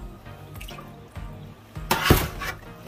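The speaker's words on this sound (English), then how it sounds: "the reason why we run the tap water again is just to get the lime juice off the chicken now" Kitchen tap running to rinse lime juice off raw chicken, a soft trickle with light drips that swells into a louder splashing gush near the end, with no talking.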